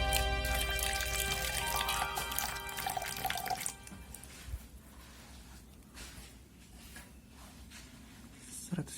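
Water poured into a measuring container during a physics lab volume measurement, a faint steady trickle for a few seconds, then fading, with a person speaking quietly under and after it.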